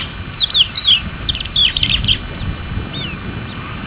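Birds in the Djoudj national park wetland give clear, quick chirping calls in short overlapping bursts, loud and close at first and then thinning out, over a soft outdoor background.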